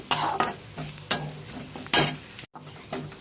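A utensil stirs cumin powder into an egg curry with lentils in a pan over low gas, giving several distinct scraping strokes against the pan beneath a soft sizzle, with a brief silent gap near the end.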